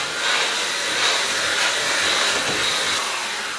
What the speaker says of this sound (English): I'm doing this with a vacuum cleaner, and I'm just going to go ahead, turn it on,